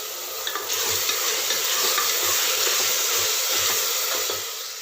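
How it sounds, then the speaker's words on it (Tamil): Soya chunks sauté in hot oil in a pan for vegetable biryani, a steady close sizzle with occasional stirring scrapes throughout. "எண்ணெயில் ஒரு 2 நிமிஷம் நல்லா வதக்கி விடுங்க."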